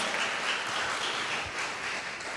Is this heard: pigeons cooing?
no